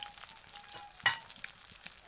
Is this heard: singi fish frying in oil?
yes